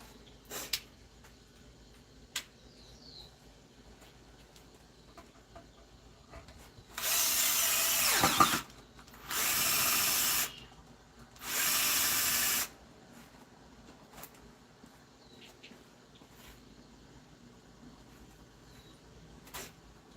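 A power drill whirs in three steady bursts, each a couple of seconds long, separated by short pauses, driving a screw into a greenhouse frame where a drill bit broke off, with faint clicks and quiet before and after.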